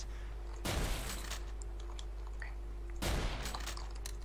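Two separated gunshots ring out about two and a half seconds apart in the Garry's Mod horror game, fired at headcrabs with Western-style guns. They are moderately loud over a steady low background hum.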